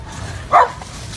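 A dog gives one short, sharp bark close by, a single quick yap standing out against quiet background noise.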